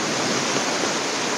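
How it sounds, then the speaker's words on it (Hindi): A small river flows near a waterfall on the way to Kalothe Waterfall in Khopoli, Maharashtra, giving a steady, loud, close rush of water with no voices. "झरने की तरफ जाते हुए हम लोग एक छोटी सी नदी दिख गई, एक छोटा सा रिवर है यहाँ पे"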